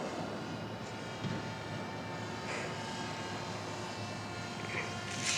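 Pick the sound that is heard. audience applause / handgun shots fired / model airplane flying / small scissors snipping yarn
model airplane flying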